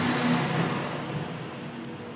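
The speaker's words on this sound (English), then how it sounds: "That was just a truck that just passed outside." A truck passing outside makes a steady, broad engine rumble and road roar that slowly fades, heard muffled through the walls of a room.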